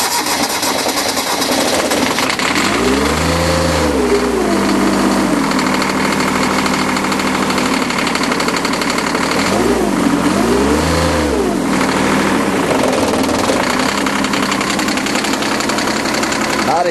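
A diesel garden tractor engine runs with a loud, rough clatter, revving up and back down twice over a steady knocking idle.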